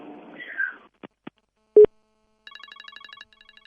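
Telephone line on a radio call-in show dropping: a few clicks and a short tone, then a rapid pulsing busy tone, faint and alone with no talk.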